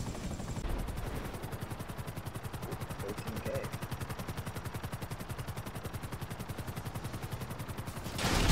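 A video game helicopter drones steadily with a fast, regular rotor chop, loud and continuous from start to end, swelling slightly in the final moment.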